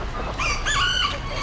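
Roosters crow at an Amish animal auction, one long rising cock-a-doodle-doo standing out clearly over steady barn crowd noise and low rumble, with other fowl faintly around.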